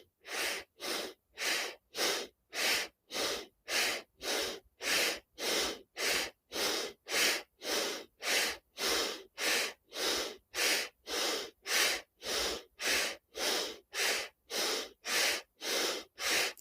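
Deep meditative breathing, slow and steady, with about two dozen evenly spaced breaths in a regular rhythm, close and alone with no other sound.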